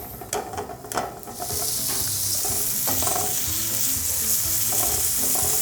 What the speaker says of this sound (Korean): 양파를 볶으시면서 고기도,